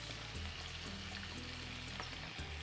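Red onion and green pepper sautéing in olive oil in a pan for Galician empanada filling, a steady faint sizzle with low hum continuing throughout, no voices.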